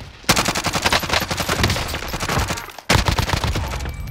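Automatic gunfire in a video game shooter: loud, rapid bursts of shots rattle continuously, cut off briefly near the end before another dense burst resumes, with no talking.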